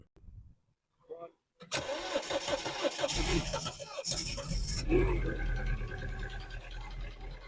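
A few faint clicks and a brief crank, then a poorly running Mini Cooper engine catches and roars to life loudly, settling into a rough, steady idle.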